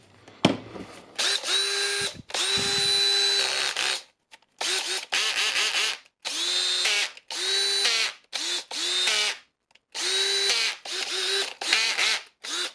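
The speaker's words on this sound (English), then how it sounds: "So it's a good working drill again" A Makita DDF482 cordless drill with its back cover off, just repaired with new brushes, whirs in a dozen short bursts of varying length separated by brief pauses, close and clear with no talk.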